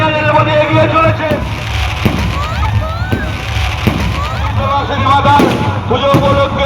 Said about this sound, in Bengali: আতশবাজি যেখানে প্রদর্শনিত হচ্ছে